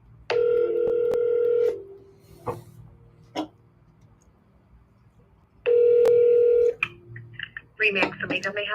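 An outgoing phone call to a real estate office produces two long, steady electronic telephone tones separated by a quiet gap with faint clicks, followed by a voice on the line.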